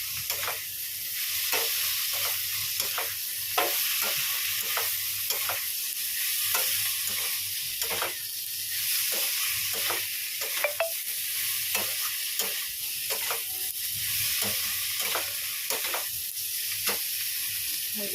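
Boiled-then-fried soybean chunks and potato frying in a pan: a dense, constant sizzle with regular rhythmic stirring scrapes throughout, close and fairly loud.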